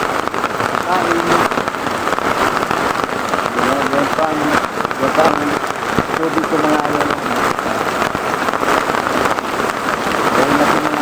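Heavy rain pours steadily onto surfaces outdoors, a dense close hiss throughout while someone talks over it.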